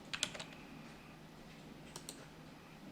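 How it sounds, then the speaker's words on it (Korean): Computer mouse clicks during fashion flat-sketch drawing work on a computer, a quick cluster of faint clicks near the start and two more a little later, heard alone in a quiet room. "자, 여기까지 클릭."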